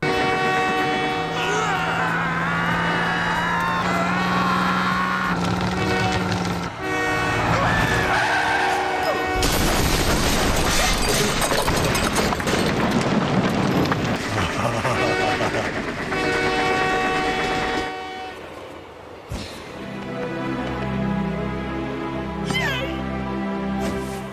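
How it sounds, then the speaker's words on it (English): A train rumbles past with loud, continuous mechanical roar and rattling, swelling in the middle then easing, with tonal horn-like drones throughout. "We see the train continue to go by"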